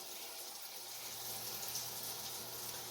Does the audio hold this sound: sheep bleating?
no